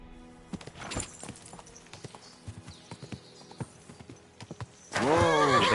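Horse hooves clip-clopping at a walk in the Kingdom Come: Deliverance II video game, with steady, fairly close knocks, followed by a loud whinny near the end.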